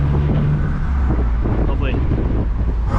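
Turbo whoosh and flutter from a tuned stage 3 Audi S3 8V making 530 bhp, rushing in a loud, wind-buffeted stream with a brief rising whistle midway.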